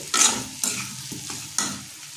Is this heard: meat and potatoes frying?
yes